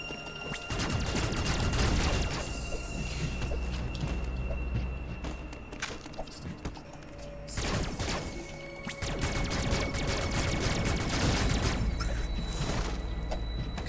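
Missile fire and impacts in Metroid Dread, several heavy blasts and crashing hits in loud clusters over a droning game background.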